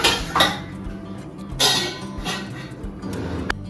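A metal lid clanks onto a cooking pot a few times, with light rattles between the knocks and a final sharp tap.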